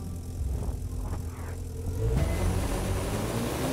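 A motorcycle engine in The Crew 2 racing game, an MV Agusta bike, hums and then revs up louder after a short build, a steady mechanical drone with no talking.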